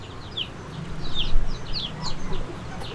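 Chickens and chicks roam freely around a farm in Aizawl, giving soft, scattered clucks and chirps over steady outdoor background noise.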